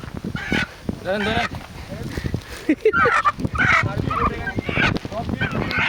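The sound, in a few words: hill chicken being carried on a walk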